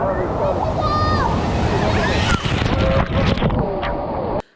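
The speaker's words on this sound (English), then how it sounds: "one of the biggest attractions here at Fort McKenzie is the big bucket dump" Big bucket dump at an indoor water park, a broad rush of splashing and pouring water with crowd noise and voices, ending abruptly.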